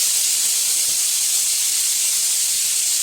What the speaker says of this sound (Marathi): एकीकडे भाताचं कुकर लावलेलं आहे.